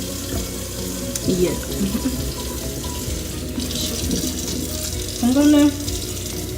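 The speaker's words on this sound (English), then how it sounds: "hopefully you guys can hear me because I got the water running" Water runs steadily from a tap throughout, a continuous hiss with a person speaking briefly over it near the start.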